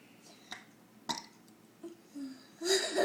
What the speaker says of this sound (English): Do you like to burp?